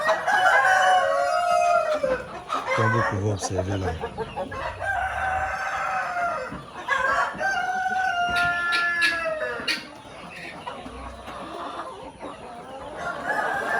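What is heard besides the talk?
chickens clucking at the laying nests on a farm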